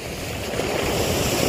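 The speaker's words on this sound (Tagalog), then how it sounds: "alon." Strong sea waves along a rocky shore at rising high tide, a continuous heavy roar of surf with wind noise, steady and close with no voices.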